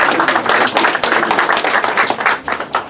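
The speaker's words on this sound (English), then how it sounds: "give him a thunderous applause as he comes to stage" An audience at a public event in Ghana gives loud, continuous clapping and applause as a speaker comes to the stage, with dense overlapping claps and no speech.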